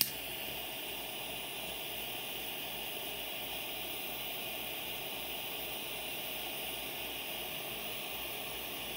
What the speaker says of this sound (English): take a jet flame lighter and just shrink on your heat shrink tubing